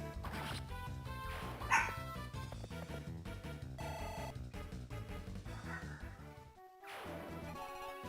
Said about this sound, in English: Sorry if you can hear my dog throwing a fit.